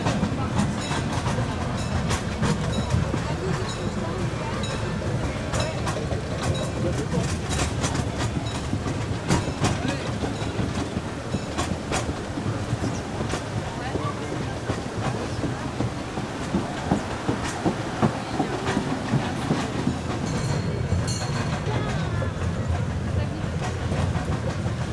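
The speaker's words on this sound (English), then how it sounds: "So you've got four different train stations here on the panorama bar. It's a great way of getting around the park." A panorama train ride at Europa-Park amusement park: continuous rumbling of rolling carriages with rhythmic clickety-clack over the rails and occasional squeaks, heard from on board, loud and steady throughout.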